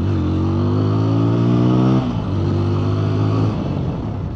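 A newly bought second-hand motorcycle's engine runs close and loud with a steady, throbbing drone. The pitch drops briefly midway, then rises and holds again, like someone blipping the throttle.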